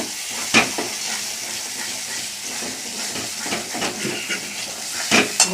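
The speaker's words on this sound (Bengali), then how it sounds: "চলো একটু ভালো করে নেড়ে নিই। দেখো তেল ছেড়ে গেছে" Cauliflower roast sizzles in oil in a pan while a spatula stirs it, a steady loud frying hiss with occasional scraping clatters up close, and no voices.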